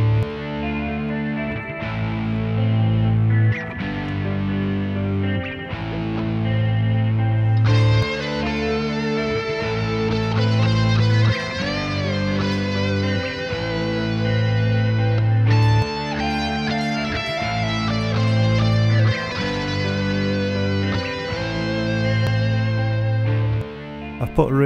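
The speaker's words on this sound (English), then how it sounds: "I've put a really heavy distortion on this so it gives me good sustain" A heavily distorted electric guitar plays a repeating riff through a Lekato loop station pedal, with long sustained notes, while lead lines with bright, ringing sustain are improvised over it.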